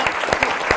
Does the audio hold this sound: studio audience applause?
yes